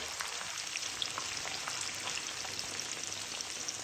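Chicken pieces in a yassa marinade fry and brown in a pan, giving a steady, close, even sizzle with fine crackling that holds throughout.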